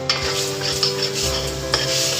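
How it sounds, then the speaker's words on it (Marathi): Malvani masala stir-fried in a hot tempering, a close, loud sizzle broken by repeated scraping and clinks of a spoon against the pan. "तरीसुद्धा आपण हा फोडणीमध्ये चांगला व्यवस्थित परतून घ्यायचा"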